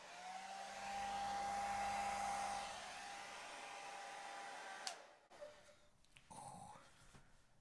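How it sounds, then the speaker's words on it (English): A hair dryer with a diffuser on the cool setting blows with a steady airy whoosh and hum for several seconds, then cuts off, followed by a few brief clicks and handling sounds. "I always use the cool setting. So that's kind of my hairdryer setup."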